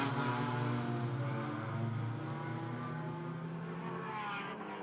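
A Porsche GT4 race car drives the Macau street circuit during Greater Bay Area GT Cup qualifying. Its engine drones loudly and steadily throughout, a continuous close roar with no talking.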